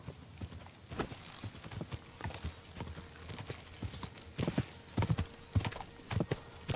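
Horse hooves clop in a brisk, uneven gait in Kingdom Come: Deliverance II, close and clear, with scattered thuds and a faint whinny-like tone in a quiet outdoor setting.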